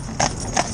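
A black Gelderlander horse in training for pair work clip-clops on a town road, two crisp hoof strikes standing out close over steady background noise.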